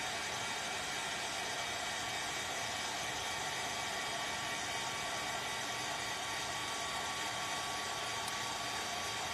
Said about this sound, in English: So we're going to now use our dryer